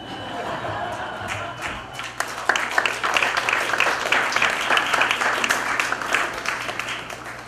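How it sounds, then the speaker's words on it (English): Audience applause at a Los Altos city council candidate forum: dense clapping builds after a couple of seconds and holds steady, fairly loud, across the room, with some voice mixed in. "Wait a minute, I didn't ask you to clap yet."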